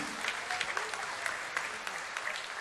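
A church congregation applauds during a sermon, a continuous wash of many hands clapping with scattered sharper claps standing out, steady throughout the short span.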